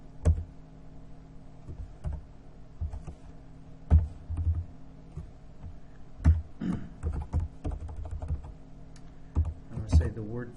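Computer keyboard typing while entering a line of code, with irregular key clicks and a few louder keystrokes over a steady low hum.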